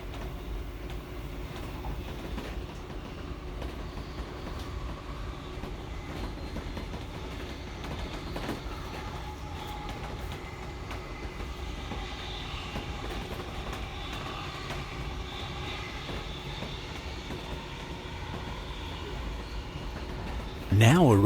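A suburban passenger train rumbles steadily along the rails between Corinda and Yeerongpilly stations, a constant low drone with faint rattles and a brief louder jolt at the very end.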